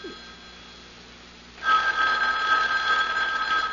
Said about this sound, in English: Well, Mrs. Greenway, aren't you going to answer it? Answer? The phone